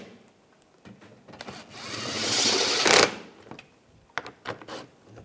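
A power driver tightens screws into the front lower grille of a 2013-2016 Dodge Dart, heard as a close whirring run of about a second and a half, then a few sharp clicks and taps.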